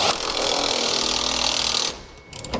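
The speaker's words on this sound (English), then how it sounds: "Now we can go back and tighten down our hardware." An 18 mm socket drives the nuts of a Draw-Tite Max-Frame trailer hitch receiver, making a loud, continuous buzzing whir for just under two seconds before it stops abruptly.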